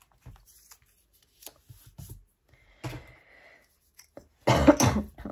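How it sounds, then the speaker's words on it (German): Several short coughs and throat-clearing bursts during a paper-crafting session with a cutter, scattered across the clip, ending in a louder, closer cough fit. "Entschuldigung, ich muss immer zwischendurch mal nochmal husten."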